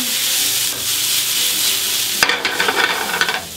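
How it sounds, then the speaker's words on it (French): A steady sizzle of onions frying in a pan, then a spatula scraping and stirring through them in quick, uneven strokes, loud and close. "La maryse est revenue, tourne et retourne."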